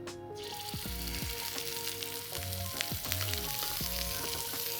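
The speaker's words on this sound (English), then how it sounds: "I'm going to sear my scallops in a frying pan first" Scallops sear in very hot vegetable oil in a frying pan, giving a steady loud sizzle and crackle that runs throughout, with occasional clinks of the pan.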